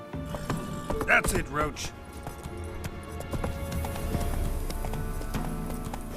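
The horse Roach trots with a run of hoof clops in The Witcher 3: Wild Hunt, mixed with a brief whinny-like cry and heavy background game noise while someone speaks over it.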